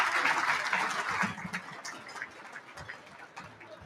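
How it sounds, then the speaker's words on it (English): Applause from a dinner audience at an EFNL football league medal night, a brief round of clapping that starts fairly full and thins out into scattered claps. "If we can have one final round of applause for our 300 Game Life members."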